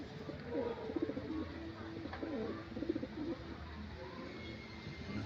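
Racing pigeons coo softly in overlapping throaty calls against a steady background hum, with a few chirps mixed in.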